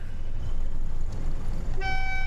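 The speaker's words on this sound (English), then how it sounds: "I think the AWS horn's actually louder than the external horn on the train" A train horn sounds in a train simulator video game, a loud steady multi-tone blast starting near the end over a low rumbling engine drone.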